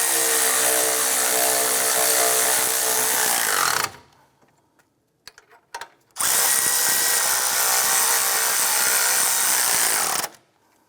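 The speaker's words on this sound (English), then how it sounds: "Let's go ahead and tighten these bolts down." Power tool tightens engine mount bolts on a 2006–2013 Chevrolet Impala: a loud, steady whirring run of about four seconds, a brief quiet gap with small clicks, then a second long whir that cuts off sharply.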